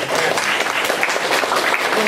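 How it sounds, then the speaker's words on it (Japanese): An audience applauds in a Japanese lecture hall at the close of a talk on Deleuze's philosophy of art, producing steady, dense clapping that fills the whole moment without a break. "もう一回皆さん拍手で"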